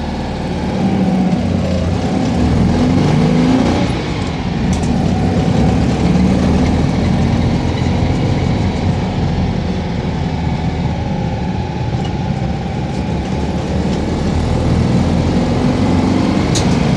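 Engine of a 1960s Citroën 2CV van pulling away in first gear, a steady, loud mechanical drone with rattling that holds throughout with no talk.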